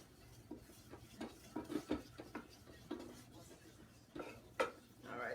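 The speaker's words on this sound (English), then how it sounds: "So you cook your roux, cook your flour and your butter" A spoon scrapes and clinks against the bottom of a pan while a flour and butter roux cooks, giving soft, irregular strokes that are close and fairly quiet.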